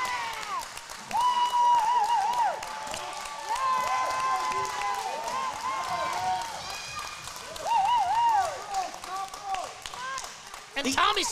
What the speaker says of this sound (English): These fans cheering Judas on.